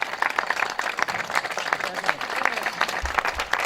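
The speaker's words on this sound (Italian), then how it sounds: "fatevi un applauso" Crowd applause at a municipal election campaign rally in Castelfranco Veneto, dense steady clapping from many hands throughout, moderately loud with some voices mixed in.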